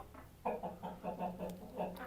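Quiet, steady clucking of chickens in a rhythmic series of soft calls, fairly distant with faint background noise.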